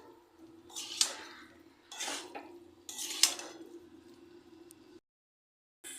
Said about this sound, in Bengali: সেদ্ধ করা আলু দিয়ে দেব, দিয়ে ভালো করে নেড়ে চেড়ে নেব মশলার সাথে